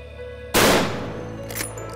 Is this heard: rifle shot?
yes